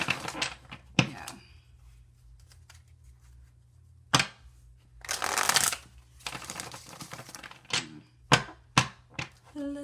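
Tarot cards being shuffled for a psychic reading, with soft papery riffles and bursts of flicking, a few sharp taps and slaps of the deck between quieter pauses, close and fairly faint, with no voice.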